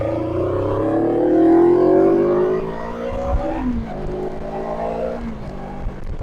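A Morbidelli F252 motorcycle engine climbs in revs, then drops sharply as it shifts into second gear and pulls again, loud and close with no talking.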